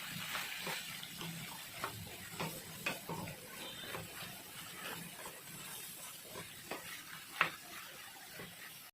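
Chopped bottle gourd pieces being mixed in a pan for a Telugu-style fry give a quiet, wet sizzle with irregular scraping and tapping from the spoon. One brief clink stands out near the end.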